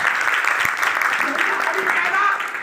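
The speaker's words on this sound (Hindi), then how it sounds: "तालियां बजाइए मेरे यीशु के लिए।" Applause from a congregation at a Christmas church service, rapid clapping running steadily through the brief moment, with shouting voices mixed in over it.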